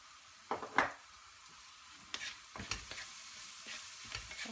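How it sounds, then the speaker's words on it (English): Okra and potato stir-fry seasoned with turmeric is stirred in a pan: a few soft scrapes and clinks over a quiet, low sizzle, heard close and without talk. "give that a nice stir and just let it cook for a couple of minutes"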